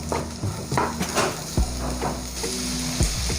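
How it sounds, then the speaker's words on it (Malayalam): Spatula stirring beetroot stir fry with salt in a pan, Kerala style, with steady scraping and clinking strokes over a soft continuous sizzle, close and alone without talk. "ഇനി നമുക്ക് ഇതിലേക്ക് ആവശ്യത്തിന് വേണ്ട ഉപ്പ് ചേർത്ത് കൊടുക്കാം. അതും കൂടി നന്നായി ഇളക്കി യോജിപ്പിക്കാം."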